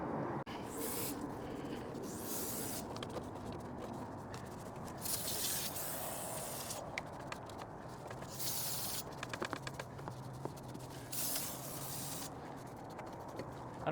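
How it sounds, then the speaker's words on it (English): Repeated short bursts of brake cleaner aerosol spray hissing onto a rag, alternating with quieter pauses and some rubbing, close by, during a car engine bay cleaning. "spray some on a rag here, not directly on the paint up here"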